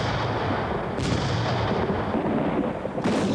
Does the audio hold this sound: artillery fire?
yes